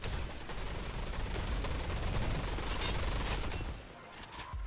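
Rapid automatic gunfire in the VR shooter Gun Raiders crackles in a dense continuous stream, fairly close, then drops off near the end with a few scattered shots.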